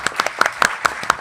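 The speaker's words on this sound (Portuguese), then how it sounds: "uma salva de palmas, Olga, todas as salvas de palmas para si mesmo." Sparse clapping from a small audience at a FNAC bookstore talk in Lisbon, a handful of distinct, close hand claps in an uneven rhythm over about a second.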